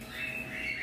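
A single drawn-out squawk from a pastel-face cockatiel, close and fairly loud, lasting under a second.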